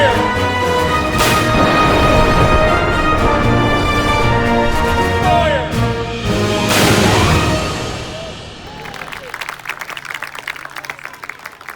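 A historic cannon at the Yorktown living history museum fires two booming shots a few seconds apart, each followed by a long ringing decay, before the noise gives way to quieter crowd sounds.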